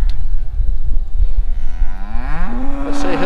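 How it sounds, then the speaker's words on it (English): Heifers in a field on Caer Caradoc, a Shropshire hill, let out one loud, close moo that rises and swells near the end over rumbling wind on the microphone. "So we're confronted with a couple of heifers."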